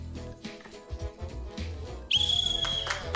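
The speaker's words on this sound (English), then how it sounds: "Pens down when I blow my whistle." A referee-style whistle blown on the Taskmaster NZ game show to call pens down, a single loud, sustained shrill blast cutting in sharply after quieter background sound.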